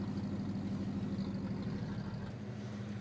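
Engine of a 1966 Ford wagon running with no exhaust system fitted, a steady low rumbling idle with a dense throb, close and continuous, easing slightly toward the end, with no talk.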